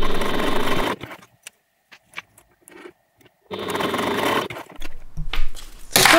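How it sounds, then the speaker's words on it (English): A sewing machine top stitches along the edge of a crossbody bag in two steady runs of rapid stitching, each about a second or more long, separated by a pause with small handling clicks and fabric rustles. "I'm going to top stitch just across the edge there."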